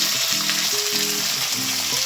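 Onion and capsicum frying in a hot pan, a loud, dense, steady sizzle up close with no pauses.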